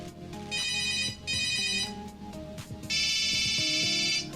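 A Nokia 3310 mobile phone ringtone plays a bright, repeating electronic melody in short bursts, with a longer burst at the end, fairly close and clear.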